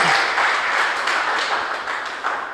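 A church congregation applauds during an emotional-healing sermon, a dense wash of clapping that stays fairly even before tapering off slightly at the end.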